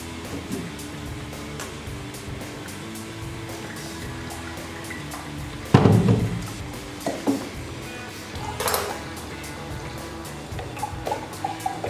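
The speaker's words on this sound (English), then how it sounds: "Then I'm using a spoon to aid the straining process" A spoon presses juice through a strainer into a cup. A loud scrape and splash comes in the middle, then scattered wet clinks and drips, heard close with no talking.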